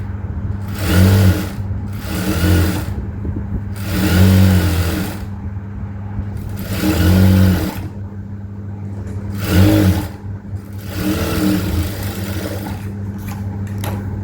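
Sewing machine stitching a folded quarter-inch blouse hem, running in several bursts of steady whirring motor hum with short pauses between them, close and fairly loud with no talking.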